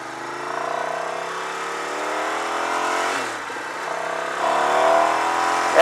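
A Ducati 900SS ie motorcycle of about 80 horsepower being ridden: a steady engine drone climbs in pitch, dips briefly as if shifting gear, then builds again, close and continuous with no talk.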